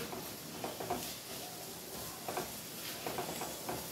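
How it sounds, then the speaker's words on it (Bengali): Onions frying in a pan over high flame give a soft, continuous sizzle, with a few light clinks and scrapes of stirring or pan handling. The level stays fairly low and steady, and no one speaks. "তো এটা একটু ভাজা ভাজা হোক, একটু ফ্লেমটা হাই করে দিই।"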